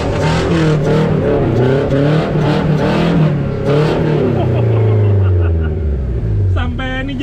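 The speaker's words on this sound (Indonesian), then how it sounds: "Nah, kita akan gas sedikit di sini." A Suzuki Jimny engine revs while driving off-road, a loud close droning growl that rises and falls in pitch, with people talking over it throughout.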